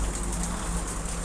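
Heavy rain pours steadily on a Filipino backyard garden during a typhoon, a dense continuous hiss of drops on surfaces with no voices.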